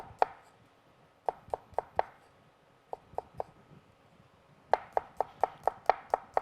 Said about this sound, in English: So I like to start out the chop on the garlic by just slicing in even pieces